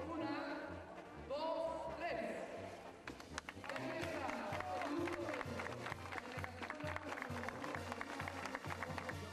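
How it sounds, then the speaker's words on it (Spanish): Crowd applause ripples through an outdoor gathering for the unveiling of a bust honoring Don Cruz Lizárraga in Álvaro Obregón, steady clapping mixed with voices and band-like tones throughout. "Entre los aplausos,"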